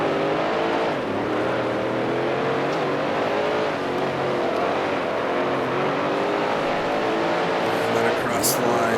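A 1971 Can-Am race car engine in Grand Prix Legends roars loud and continuous, its pitch rising and falling through gear changes and corners, with a gritty, sandy rasp in the tone and a voice talking over it.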